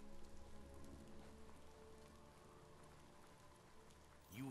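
Rain in the video game Biomutant, a steady, faint patter of drops falling on surfaces without a break, with a brief voice-like sound at the very end.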